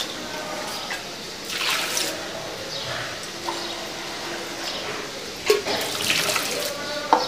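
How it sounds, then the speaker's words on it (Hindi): Water splashes and pours steadily into a metal pot of beef aloo gosht with garlic, with a few sharper clinks and sloshes near the end; no talking. "और ये थोड़ा सा 2 गिलास हम इसमें पानी डालेंगे।"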